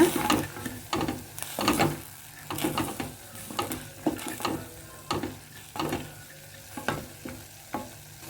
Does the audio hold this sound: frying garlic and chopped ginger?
yes